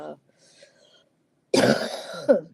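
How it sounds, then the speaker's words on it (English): A brief throat sound at the start, then a loud, harsh cough burst with a second sharp hack right after, close to the mic. "sorry, I picked up a cough somewhere"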